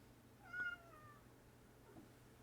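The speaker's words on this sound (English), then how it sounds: "And who let that cat in here?" An upset cat gives one short, faint, plaintive meow in a quiet room, followed by a softer trailing sound.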